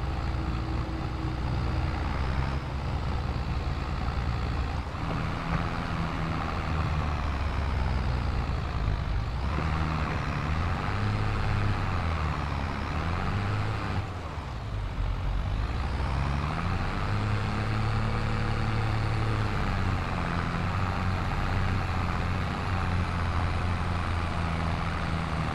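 Heavy truck engine in Farming Simulator 22 drones loud and steady with shifting low harmonics as it labours and runs downhill, a brief dip near the middle, no talk.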